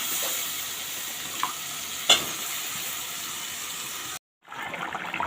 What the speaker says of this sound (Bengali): এর ভিতরে এখন আমি লাউ দিয়ে দিব।